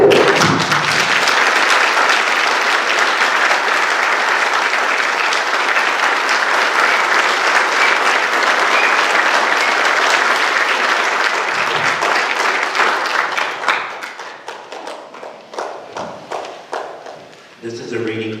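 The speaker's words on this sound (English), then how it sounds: "I want you to clap for them as loud as you can." A wedding audience applauds the newlyweds as loudly as they can. Dense, loud clapping holds steady for about thirteen seconds, then thins into scattered claps and fades out.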